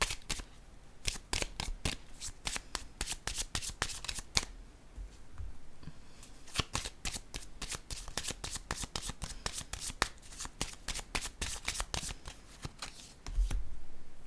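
A deck of tarot cards is shuffled by hand in repeated bursts of riffling and flicking, close and crisp, with short pauses between rounds.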